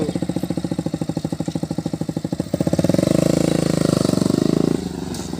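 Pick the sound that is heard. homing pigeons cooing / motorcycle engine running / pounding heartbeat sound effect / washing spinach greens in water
motorcycle engine running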